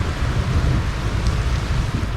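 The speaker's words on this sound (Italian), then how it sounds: "Inizia a piovere, senti che aria." Rain begins falling outdoors in the Italian countryside, a steady dense hiss with a low rumble underneath, continuous and fairly close.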